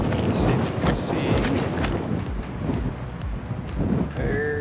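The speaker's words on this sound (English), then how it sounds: "Wind's blowing a bit." Wind gusting across a snowy ledge above Crater Lake in winter, a steady rushing roar buffeting the microphone close by, with no talk over it.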